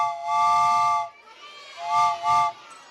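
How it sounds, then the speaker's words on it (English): A train whistle with a steam-whistle chord gives one long hooting blast followed by two shorter ones, close and clear with a breathy hiss. "It's a train whistle, that's right."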